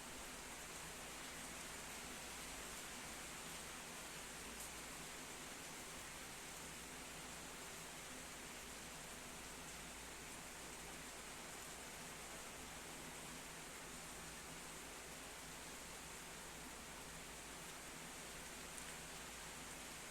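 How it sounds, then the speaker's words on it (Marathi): Rain falls steadily outdoors over green vegetation, a constant even hiss with no breaks for the full stretch, fairly faint and unaccompanied by voices. "पाऊस पडत आहे आणि पावसाचं सुंदर असं दृश्य आपण पाहत आहात"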